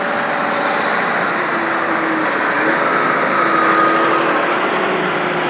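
Steady, loud drone of a running tractor engine with a faint whine, continuous and unchanging throughout, close by.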